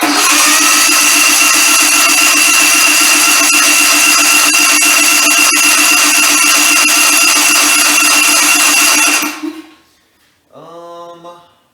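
Generac XG8000E portable generator engine running, a loud, steady, close drone with a strong buzzing hum that cuts off near the end, followed by a brief fainter sound.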